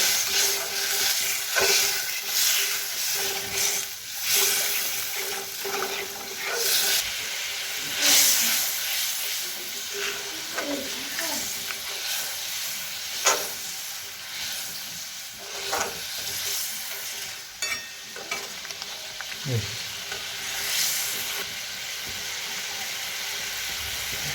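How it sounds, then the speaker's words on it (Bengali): Spice paste for pabda fish curry being stirred with added water in a pan, giving a steady steamy hiss and sizzle with intermittent scraping strokes of the spoon, fairly close and continuous throughout. "এবার পরিমাণ মতো জল জল দিয়ে ভালো করে নেড়ে করে দশ মিনিট পরে ফোটাবো"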